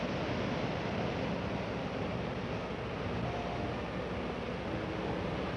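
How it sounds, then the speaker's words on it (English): Water rushes through the Partnach gorge in the German Alps, a steady, unbroken roar of white noise heard at moderate level with no voices. "You can hear the water rushing through it."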